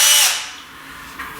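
Bosch GSR 12V-15 compact cordless drill with keyless chuck running briefly, a loud high whir at the start that winds down, followed by faint quiet.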